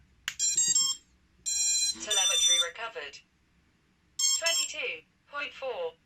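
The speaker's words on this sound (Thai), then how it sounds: "มันก็จะเตือนแบบต่ำไปเรื่อยๆทุกๆหกวิ" Two bursts of electronic beeps from an RC transmitter, each followed by a short synthetic spoken low-battery alert, separated by a few seconds of near silence.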